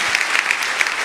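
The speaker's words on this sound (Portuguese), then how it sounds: "Pode aplaudir, gente." A church TV audience breaks into a short, dense wash of clapping, even and continuous for about a second.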